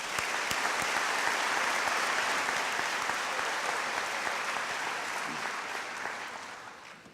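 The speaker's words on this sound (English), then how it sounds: "one last round of applause for Mr. DeBusk" Sustained clapping from a commencement crowd for Mr. DeBusk at a Daemen College graduation, a broad, even wash of many hands with a few sharper individual claps, slowly fading toward the close.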